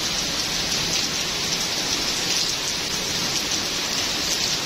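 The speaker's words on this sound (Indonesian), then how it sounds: "Suaranya hujan kemerucuk." Heavy rain pours down steadily on a village, a dense, even hiss of drops hitting surfaces that stays loud and unbroken throughout.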